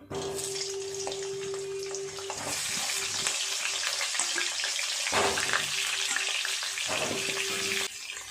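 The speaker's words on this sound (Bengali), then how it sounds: "খুব ভালোভাবে তেল গরম হয়ে গেছে, আলুগুলো ভেজে নেব।" Potatoes fry in hot oil in a wok, giving a close, steady hiss and crackle that swells and fades slightly, with a faint background hum and no talk.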